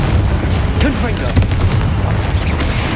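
Confringo blasting curse from Hogwarts Legacy bursting inside a catacomb tomb, a loud booming explosion with crackling debris that rumbles on for a few seconds, a voice shouting the spell at the start.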